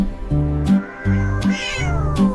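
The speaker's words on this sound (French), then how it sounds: "Le chat sauta haut à travers les rayons de la lumière des étoiles." Cartoon cat meows in an animated children's nursery rhyme: a string of loud, drawn-out, tuneful mews, repeated about four times in close succession, with no speech.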